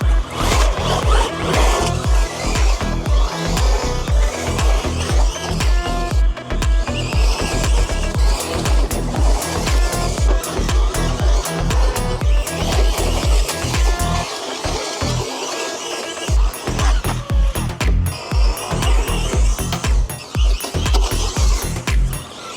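An RC rally car tears through long wet grass, its motor whining steadily with rapid rhythmic pulses and brief dips, loud and close throughout with no talking.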